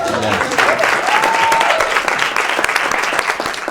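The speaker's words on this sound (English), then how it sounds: "Let's clap for them." An audience claps for a live band on a talk show stage, a dense burst of applause with a few individual sharp claps and a brief whistle, with faint voices underneath.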